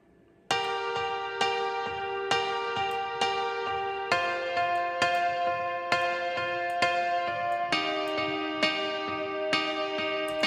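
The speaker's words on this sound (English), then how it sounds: "And now there's a piano going on during the chorus" Piano plays repeated, evenly struck chords in a steady rhythm, shifting harmony every few bars, clear and close with no voices.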